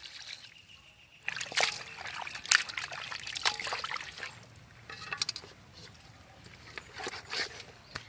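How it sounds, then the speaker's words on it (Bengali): Country chicken meat is rinsed with water, a soft trickle and splashing as water pours and sloshes over the pieces in uneven bursts, close and quiet. "আর একবার জল দিয়ে ভালো করে ধুয়ে নেব।"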